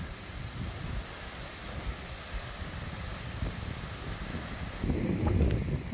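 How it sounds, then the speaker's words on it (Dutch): Strong storm wind in Norway buffets and roars with a constant low rumble, gusting louder toward the end, with no voices. "Maar wat een wind, jongens."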